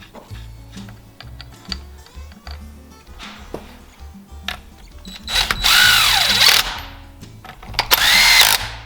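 A power tool snugs up bolts on a Ford 2N tractor hydraulic pump, with soft clicks and ratcheting taps before two loud, close bursts of whirring.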